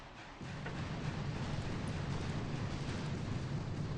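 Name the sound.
artillery barrage explosions in the video game Boom Beach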